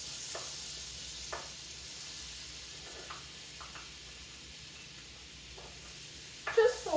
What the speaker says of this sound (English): I'm going to saute garlic in my